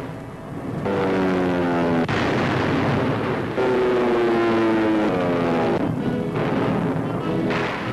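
British and American bomber planes in an old wartime newsreel drone with a loud, continuous engine roar. The pitch of the engines wavers between several abrupt cuts, and no speech is heard.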